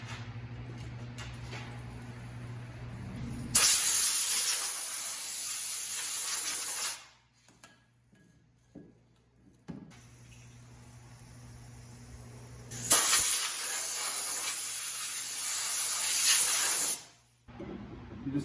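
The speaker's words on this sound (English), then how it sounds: "Here's my new rotor. I'm gonna clean it off with brake clean." Brake cleaner sprays onto a new brake rotor for a Ford Transit 350 in two long, loud, close hissing bursts of about three to four seconds each, split by a quiet gap with faint handling clicks.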